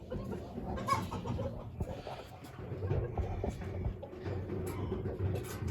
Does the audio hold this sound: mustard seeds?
no